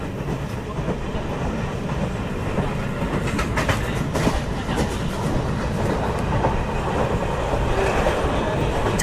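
A train runs on rails through the Western Ghats near Puttur, Dakshina Kannada, with a continuous rumble and rhythmic clickety-clack of wheels over the joints, heard steadily from on board.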